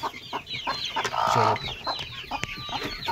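An Aseel hen, a brooding bird sitting on eggs, clucks in a series of close, moderately loud calls with no voices.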